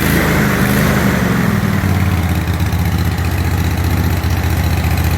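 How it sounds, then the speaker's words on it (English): Engine of a John Deere QuikTrak 652R EFI mower idling, a steady, loud, continuous rumble that holds an even pitch throughout with no voices. "It idles good."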